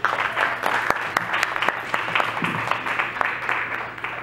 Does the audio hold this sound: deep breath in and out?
no